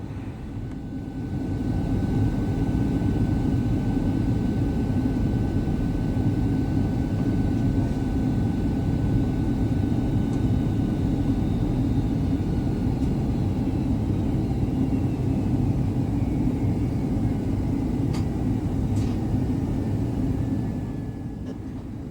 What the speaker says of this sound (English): Please enjoy this amazing landing on board the 767-300ER into New York JFK Airport from Honolulu Airport.